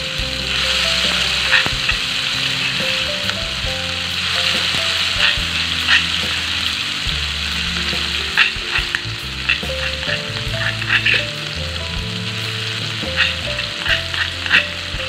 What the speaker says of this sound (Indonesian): sekarang kita tumis bumbu yang tadi sudah ditumbuk